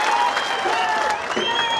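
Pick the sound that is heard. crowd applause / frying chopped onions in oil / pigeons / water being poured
crowd applause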